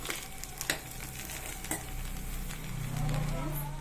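A spoon stirs and mixes pudhina (mint) rice in a pan, with sharp scraping strokes against the metal at irregular intervals over a soft sizzle and a faint low hum near the end.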